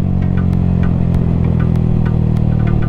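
Single-cylinder motorcycle with an aftermarket exhaust on throttle release, a loud, close, continuous low engine rumble with regular sharp pops and crackles.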